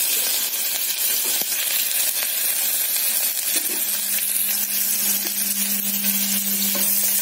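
Chopped onion frying in hot oil with cumin and green chilli for arvi kadhi, a steady bright sizzle throughout with occasional stirring scrapes and soft taps, close and continuous without talk.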